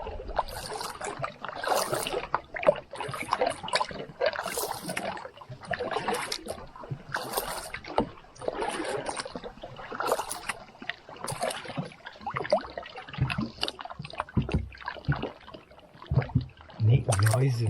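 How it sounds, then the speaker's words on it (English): Canoe paddle strokes dip and pull through lake water on Lake Timiskaming, a steady series of close splashes and drips repeating every second or so, with someone talking over them at intervals. "This is just such a treat to paddle."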